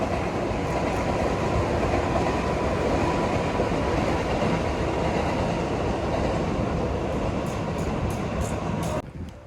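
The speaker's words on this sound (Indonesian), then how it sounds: "Nah, itu ada kereta lewat." A train rolls past very close to an open lot, a loud sustained rumble and rattle of wagons on rails that holds steady for several seconds before cutting off abruptly.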